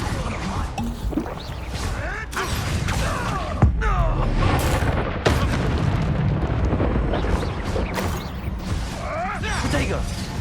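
Confringo, the explosive fire spell in the video game Hogwarts Legacy, bursts repeatedly amid loud, dense combat noise, with sharp booms near 3.7 and 5 seconds and voices talking over the chaotic battle.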